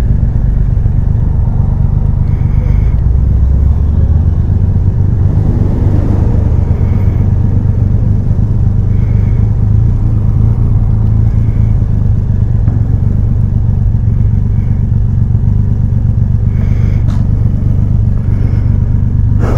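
A Triumph Rocket 3 R Black Limited Edition motorcycle cruises along the road, its engine producing a loud, constant low rumble mixed with steady wind roar throughout, without any talking.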